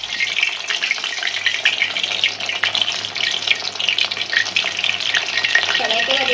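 Chicken balls frying in hot oil in a wok, a loud, steady bubbling sizzle that runs without a break, with faint stirring noise and no talk.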